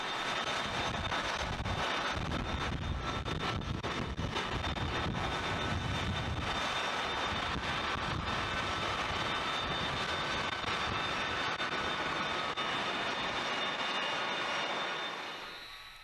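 Jet engines of C-17 military transport aircraft at Travis Air Force Base in California, a steady loud roar with wind buffeting that holds for about fifteen seconds before fading away at the end.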